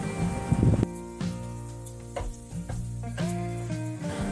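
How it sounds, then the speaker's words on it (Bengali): Vegetables and slit green chillies sizzle in a kadai while being stirred for hibachi fried rice, a steady frying hiss with scraping, clattering stirs of a utensil against the pan, close and alone. "মিনিট তিনেক পর ঢাকনা তুলে হালকা একটু নেড়ে চেড়ে নিয়ে দিয়ে দেবো চেরা কাঁচা লঙ্কা"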